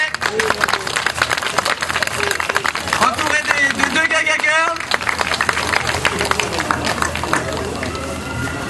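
A boxing crowd at a savate (French boxing) event applauds a fighter in the red corner, dense clapping and cheering filling the whole stretch while an announcer speaks over it through a microphone.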